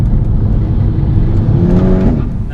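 A 350 bhp VW Golf GTI accelerates hard with wheel spin, its loud engine note rising steadily in pitch as the revs climb, with a sustained close roar throughout.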